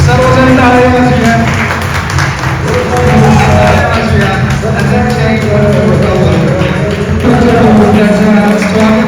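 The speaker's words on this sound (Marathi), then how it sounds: "सर्वजण टाळ्या वाजवूया." A church audience at a prophetic meeting claps steadily to welcome a guest, with a dense, continuous wash of hands mixed with crowd murmur and voices throughout.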